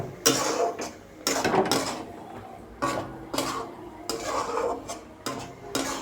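Fish frying with spices in a pan, stirred in repeated scraping bursts of metal on the pan surface, close and fairly loud, over a low background sizzle.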